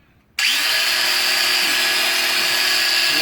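A Certa angle grinder starts abruptly after a brief quiet moment and then runs steadily at full speed, a loud continuous high whine with no cutting or grinding contact.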